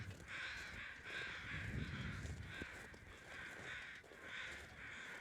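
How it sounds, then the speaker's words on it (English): Crows cawing in the survival video game The Long Dark, a steady series of about five or six harsh caws repeating every second or so at moderate distance over a quiet ambient background. "crows are just going to be calling up a storm"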